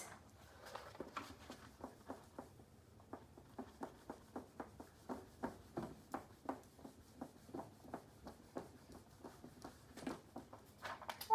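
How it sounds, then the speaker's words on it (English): Eraser or cloth wiping marker writing off a whiteboard in a classroom lesson, a steady run of quick, rhythmic rubbing strokes at close range with no talking. "Let me erase."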